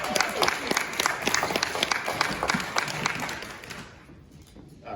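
An audience at a panel discussion on generational and modern-day racial issues gives the panelists a round of applause, with lively clapping and a few whoops that fade out near the end.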